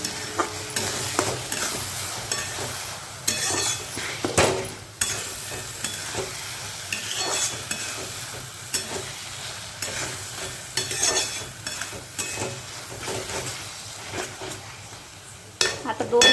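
Khandeshi-style eggplant bharit is stirred in a pan, with repeated scraping and clinking of the utensil against metal over a continuous soft sizzle, close and fairly loud.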